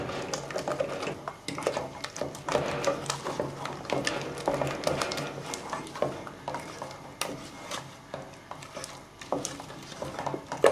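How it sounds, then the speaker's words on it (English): A spoon stirs a thick homemade play dough mixture in a pot, giving a steady run of scraping and soft clattering strokes at close range that keeps going throughout. "There you go, it's starting to really stick together now. Keep stirring."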